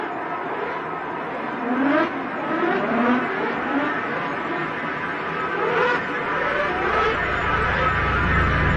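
A car drives steadily through a video game, its engine droning continuously at moderate volume with a few gentle surges in power and no speech.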